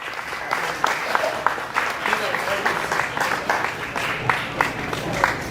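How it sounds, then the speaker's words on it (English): An audience at the Schulz Brau brewery gives a comedian a round of applause: steady, full clapping from a crowd with sharper individual claps standing out, continuing without pause. "give a huge round of applause for the very funny Sean Dills."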